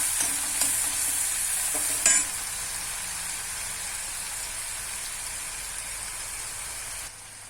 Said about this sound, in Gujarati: આને આપણે મીડિયમ તાપે તેલ છૂટે ત્યાં સુધી સહેજ થવા દઈશું